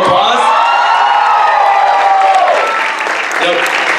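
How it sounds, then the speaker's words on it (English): An audience at an Indian Student Association Jalsa 2022 event breaks into loud, dense applause with cheering and whoops, sustained close-up for the full four seconds and easing slightly near the end. "Let's give them a big round of applause."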